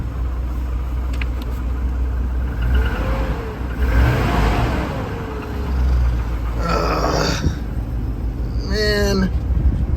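A car engine being blipped with the throttle, rising and falling revs rumbling close by amid a somewhat unhealthy-sounding idle, with a voice and grunting noises mixed in.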